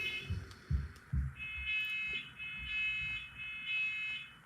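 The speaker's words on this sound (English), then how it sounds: "The fire alarm is going off." A fire alarm sounds during a stationery unboxing, a steady high electronic tone repeating in pulses throughout, moderately loud, with soft thumps and handling noises underneath.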